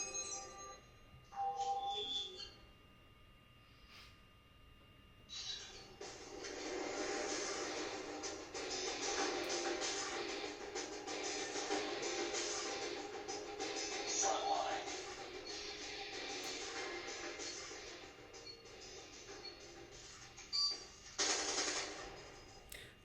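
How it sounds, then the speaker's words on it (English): Call of Duty Mobile game sound played from an Android phone through a projector: a steady dense wash of effects and music for most of the stretch, fairly quiet and continuous, with a few sharper bursts toward the end. "I am now trying to play Call of Duty Mobile."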